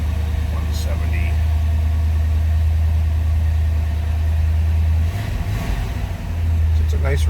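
A 1964 Chevrolet El Camino engine idling steadily with a deep, even low hum, close and continuous, with someone talking over it.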